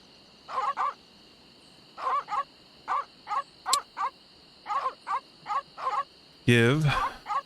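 Deadly Piranha Poodles in The Secret of Monkey Island bark in short, evenly spaced doubled yaps, repeating steadily over a faint ambient hum, ending in a drawn-out snarling howl.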